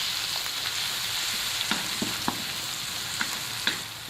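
Ginger and garlic paste frying in a pan for fish curry gives a steady, close sizzle with a few sharp stirring clicks and scrapes scattered through it. No one speaks.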